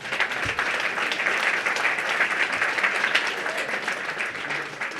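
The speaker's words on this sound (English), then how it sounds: "Give him a round of applause." Sustained audience applause at a chamber of commerce dinner in Easton, a dense, steady wash of many hands clapping at even loudness for the whole stretch.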